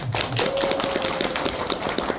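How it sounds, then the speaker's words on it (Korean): A lecture audience at a citizens' college claps in a brief, dense burst of many overlapping hand claps, moderately close, with no speech over it. "이 부분에 대해서 박수 한번 쳐주십시오."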